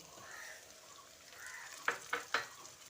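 Crushed onion and chopped tomato frying in a pan, a soft sizzle with three sharp spoon scrapes near the end.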